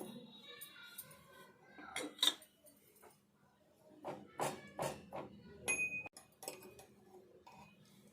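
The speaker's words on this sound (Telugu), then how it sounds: "ఇప్పుడు ఇవి ఈ రోట్లో వేసుకొని కొంచెం దంచుకుందాము" Black peppercorns and a piece of ginger are pounded in a stone mortar, giving quiet, irregular knocks and clinks in short clusters, with a voice faintly present at the start.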